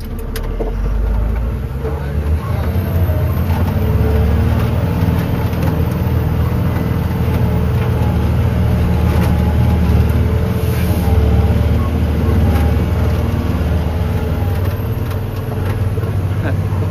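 An overloaded truck labours up a mountain ghat road, its engine giving a loud, constant low drone with rattling cab noise and no breaks over the whole stretch.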